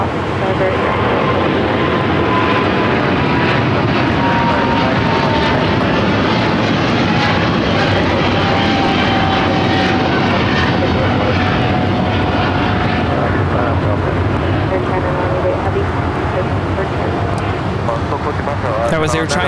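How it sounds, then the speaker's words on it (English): Air China 988, a Boeing 777-300ER, taking off at LAX, a loud continuous jet engine roar with a slowly sliding whine, sustained throughout under talk from people nearby. "That was Air China 988 taking off to Beijing on the 777-300ER."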